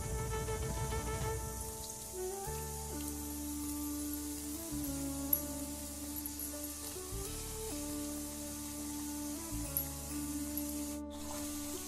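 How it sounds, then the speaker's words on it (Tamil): Masala peanuts frying in moderately hot oil, a steady crackling sizzle like rain that carries on throughout, with a constant tonal hum beneath it. "நம்ம இதை போட்டு பொரிச்சு எடுத்துக்கலாம்."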